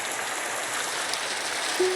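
Hail pours down in a Minecraft hailstorm, a dense continuous hiss of pattering that stays steady and fairly loud throughout, with no talking.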